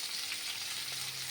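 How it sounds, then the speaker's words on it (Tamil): Onion, tomato and garlic sauté together in a pan for adai dosa, a faint, continuous hiss of frying with no talking. "நம்ம வெங்காயம், தக்காளி, பூண்டு எல்லாத்தையும் ஒன்றா போட்டு வதக்கிக்கலாம்"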